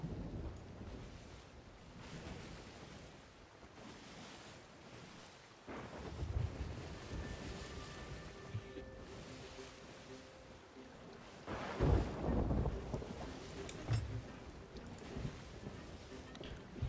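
A thunderstorm at sea in the Sea of Thieves video game, with dense rain and wind roaring steadily and heavy thunder rumbles swelling midway, the storm loud and close throughout.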